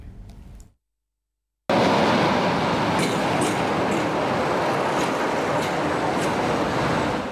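An Interregio passenger train runs on the rails, a loud, steady rumble with rhythmic clatter from the wheels that follows a brief burst of other sound and a second of silence.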